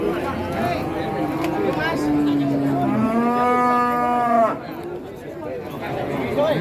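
Bulls at the Purwantoro cattle market in Wonogiri give one long, loud, drawn-out moo, with rising harmonics, close by. Market chatter and voices carry on underneath.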